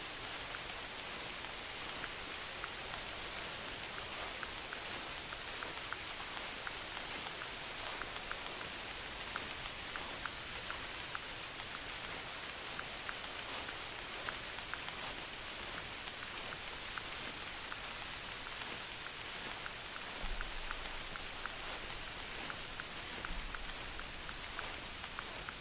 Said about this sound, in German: Und das regnet das wieder.